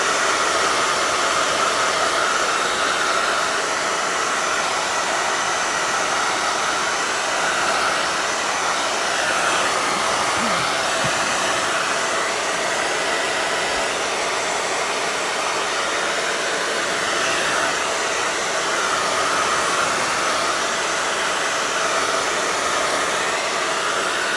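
A hair dryer blows steadily on an acrylic floral abstract painting, a loud constant whooshing hiss that runs unbroken throughout with only slight shifts in tone, with no speech.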